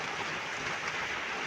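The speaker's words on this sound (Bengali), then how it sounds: "বৃষ্টি অনবরত রয়েছে, থামছে না" Continuous rain falling in Bogura, a steady even hiss of moderate loudness with no talk over it.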